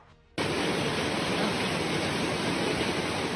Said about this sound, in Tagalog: Rinig na rinig sa video na inupload ni Milbert Oliva kung gaano kalakas ang buhos ng ulan